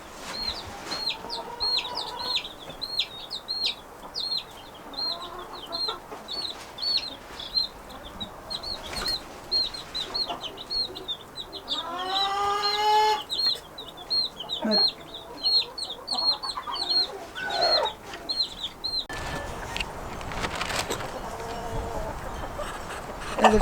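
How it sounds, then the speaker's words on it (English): Backyard hens cluck and chatter while pecking at a snack, with repeated close clucks, a brief burst of wing flapping near the middle, and voices faintly underneath. "chickens eating their snack"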